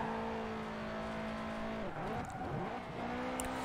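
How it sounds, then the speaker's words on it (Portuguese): A modified Volkswagen Beetle in Forza Horizon 4 holds a steady engine drone, then dips and swoops through a quick rev change before settling back into a sustained hum. "Olha o som desse fusquinha"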